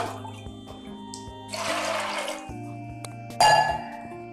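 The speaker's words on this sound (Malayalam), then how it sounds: "അത് കാരണം നമുക്ക് വെള്ളം പോരങ്ങ് കുറച്ചും കൂടി വെള്ളം ആഡ് ചെയ്യാം" Water pours into a pressure cooker holding cooked chickpeas for a Kerala-style curry, a gushing splash in the middle followed by a short louder pour, with metallic clinks around it.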